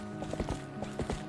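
Horse hooves galloping in the video game The Legend of Zelda: Twilight Princess, a quick clip-clop of several close hoofbeats over steady background game music.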